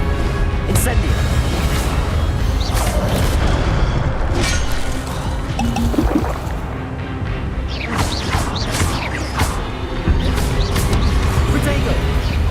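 Fire spells cast in Hogwarts Legacy burst out in repeated whooshing booms and crackling impacts, dense and loud, layered over constant game noise and a voice talking throughout.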